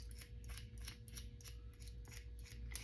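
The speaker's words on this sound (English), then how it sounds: "I'll show you how to sharpen scissors too since you're here." Dull sewing scissors sharpened by snipping against a pin, a quick run of crisp metallic snips repeating at a steady rhythm, close and fairly faint.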